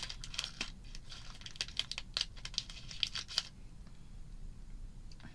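A snack package is cut open with tapered scissors, giving a run of crisp crinkles and snips over the first few seconds, close and fairly quiet, before the plastic rustling fades to near silence.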